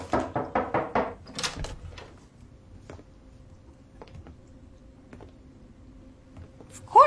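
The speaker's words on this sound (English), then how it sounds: "someone knocked on the door" A hotel room door takes a quick series of about six sharp knocks, then quieter scattered taps and creaks follow over a faint background hum.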